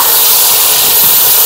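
Peas frying in a pot with a few green chillies for matar pulao: a loud, steady broadband hiss and sizzle that carries on without pause, with no voices.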